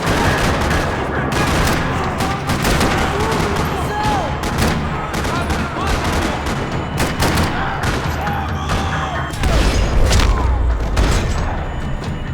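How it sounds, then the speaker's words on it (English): Bursts of gunfire fill a parking lot in the Max Payne 3 video game, dense overlapping shots and booms rattling almost continuously, loud and close, with scattered voices in between. "Another parking lot rattling with gunfire."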